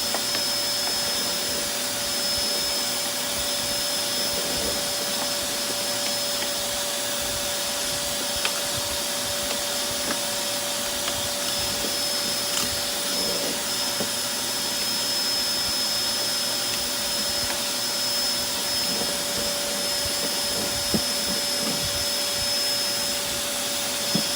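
A vacuum cleaner sucks up sawdust in a woodworking setting, a loud steady broadband whine with a constant tonal hum that runs unbroken from start to finish, with no talk over it.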